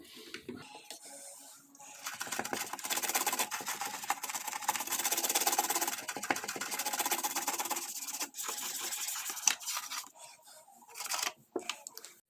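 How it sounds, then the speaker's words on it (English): A Nintendo 64 console's dirty ventilation grille being scrubbed with a brush, a dense rasping scrub that runs in long strokes with short pauses, up close and without speech. "Even though we're scrubbing, we're having a hard time getting things out."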